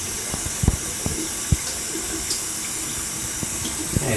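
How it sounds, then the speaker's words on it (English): Tap water running steadily into a sink to rinse a razor, a constant close splashing stream with a few light knocks and taps of the razor against the basin. "rinse off my razor a little bit"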